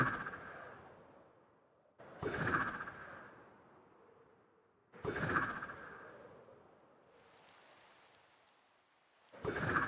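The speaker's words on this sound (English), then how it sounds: "I just realized I'm in the rain, so I can actually use this constantly." Rain falling in the video game Minestria, a steady hiss of broadband patter that swells in several loud bursts and fades between them, with no talking.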